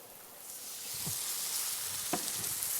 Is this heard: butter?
yes